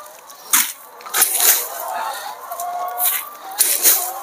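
Chickens cluck in a poultry farm with scattered bursts of clucking and squawks at close range, some loud. A person speaks quietly in the background.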